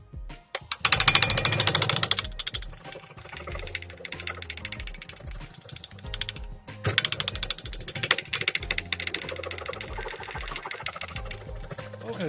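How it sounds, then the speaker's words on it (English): A small woodturning gouge chatters against a spinning turned vase while clearing out its centre hole, giving rapid, close, rattling bursts in two loud stretches with quieter scraping between. "Now I'm going to take my smallest gouge that I have and try to clean out this center hole."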